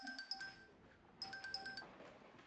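Phone ringtone plays as a faint, tinny electronic melody in two short bursts separated by a pause, quiet and alone with no voices.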